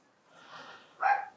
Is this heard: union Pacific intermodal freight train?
no